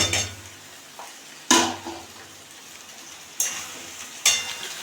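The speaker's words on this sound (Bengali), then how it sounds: "আলুটার সঙ্গে আমি সয়াবিনটাও অ্যাড করে দিচ্ছি একসঙ্গে বেজে নেব" Potatoes and soybean chunks frying together in oil in a pan, a continuous low sizzle broken by several sharp spatula scrapes and clinks against the pan at irregular intervals.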